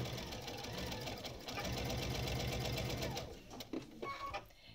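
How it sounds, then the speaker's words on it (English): A sewing machine stitches the middle seam of pieced pinwheel quilt blocks, a steady mechanical whir running continuously for several seconds before slowing and stopping with a few light clicks near the end. "Now we're going to sew the middle seam."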